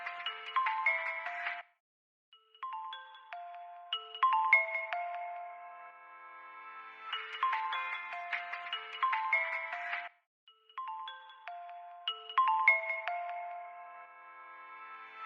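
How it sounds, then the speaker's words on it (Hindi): A mobile phone ringtone rings in repeated bursts with short gaps, a steady electronic melody sounding clearly with no talk over it. "जेब में फोन बज रहा है"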